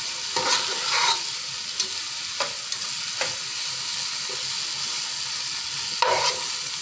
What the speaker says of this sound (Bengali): এখন আমি এটাকে নেড়ে চেড়ে নামিয়ে নেব।